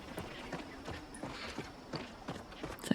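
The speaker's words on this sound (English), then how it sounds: "Oh, look at their horse." Horse hooves clip-clop at a steady walking pace in the Palia game's Royal Highlands, moderately close, with soft game ambience and occasional faint sounds around them.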